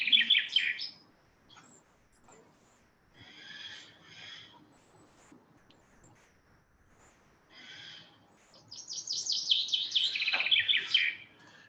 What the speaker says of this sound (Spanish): Ahora os pongo al pinzón, que es otro representante de los fringílidos